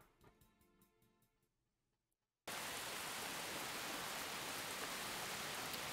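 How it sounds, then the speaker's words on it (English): Rain in a video game arrives abruptly after a quiet stretch of soft musical tones, becoming a dense, steady hiss of downpour that fills the rest of the time at constant loudness. "It was raining"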